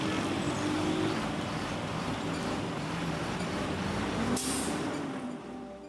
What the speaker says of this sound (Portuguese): o barulho do tráfego.